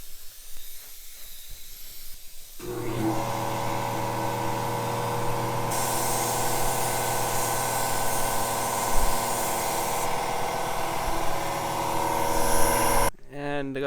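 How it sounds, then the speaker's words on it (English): Steady aerosol spray hiss while painting miniature model cars, including a Corvette chassis, running continuously in long bursts with short pauses, loud and close, with no talk over it. "I think it's time to do some spraying."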